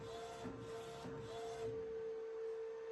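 A DTF printer runs a 10 by 10 sheet with a steady mechanical hum and a high whine, soft carriage sweeps passing early on, quiet and close with no talking.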